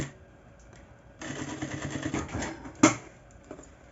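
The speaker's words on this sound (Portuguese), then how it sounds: "E agora, eu vou costurar para fazer o acabamento." Sewing machine stitching fabric piping onto a Bibi-style bag. A steady mechanical whir runs close for about a second and a half, then stops with a sharp knock and quiet handling.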